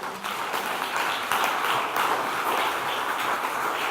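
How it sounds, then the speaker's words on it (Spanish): A church congregation breaks into sustained applause, a dense, even roar of many hands clapping that carries on steadily throughout. "Dale un aplauso, Señor, por favor"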